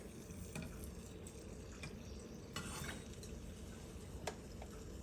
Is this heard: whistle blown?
no